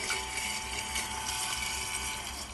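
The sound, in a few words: DC60G-24120S micro circulation pump lifted out of water, dry-run protection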